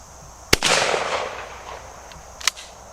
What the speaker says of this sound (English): we got Boss 7-shot 3-inch shell. We're gonna be shooting out of a true modified choke